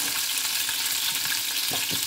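Boiled eggs fry in a pan of oil with salt and turmeric for a South Indian-style egg curry with potato, giving a steady close sizzle with faint stirring clinks and no voices.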